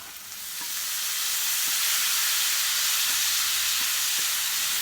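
Taro pieces go into hot oil for frying, and a loud, dense sizzle swells within the first second, then holds as a steady, close hiss with faint stirring taps underneath and no voices.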